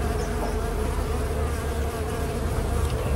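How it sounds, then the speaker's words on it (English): Dense, continuous buzzing of many honey bees shaken off a hive frame in a queenless hive, close by, a steady swarming drone without pause or speech. "I'm going to shake these bees off so I can show you what's going on."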